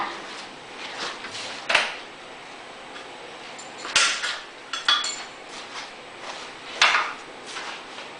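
Screws come out of the end cover of a Yamaha EF2400 generator, heard as sporadic close metallic clinks, taps and rattles of tools and hardware against the casing, with no talk.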